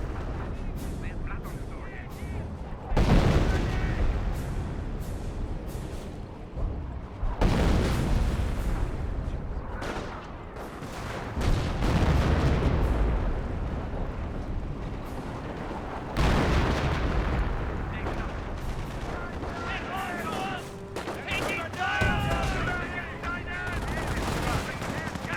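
A 45-pounder anti-tank gun fires in the Company of Heroes 1 real-time strategy game, its heavy booming shots and explosions repeating in several loud bursts amid battlefield gunfire, with a commentator talking over the action.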